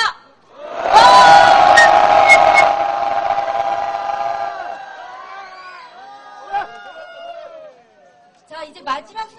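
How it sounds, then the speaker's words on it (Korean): A large crowd at an outdoor Korean reunification rally lets out a loud, sustained roar of shouting. It swells suddenly, holds for a few seconds, then trails off into scattered cheers and calls. "우리의 결의를 담아 마지막으로 큰 함성 외쳐보겠습니다"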